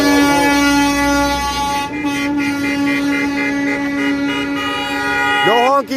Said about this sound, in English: Cruise, lay off the fucking horns till tomorrow